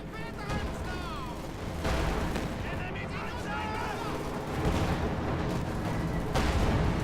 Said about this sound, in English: And there goes Sturmgeschütz opening up there with 75mm gun.